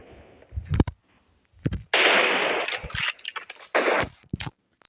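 Sharp gunshots ring out in the video game PUBG on the Erangel map during a one-man squad match, arriving as several loud, close cracks and a longer rattling burst with short gaps between.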